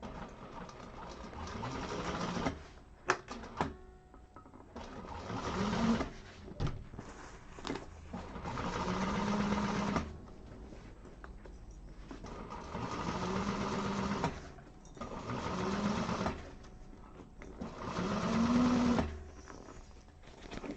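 Sewing machine stitches a seam across fabric in several steady whirring runs broken by short pauses, moderately close, with brief clicks and handling sounds between bursts.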